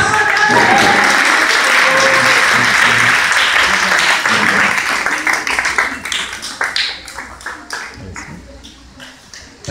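An audience applauds at a literary award ceremony of the State of Mexico's Culture Secretariat, dense clapping that thins into scattered individual claps toward the end, with a voice briefly audible beneath it.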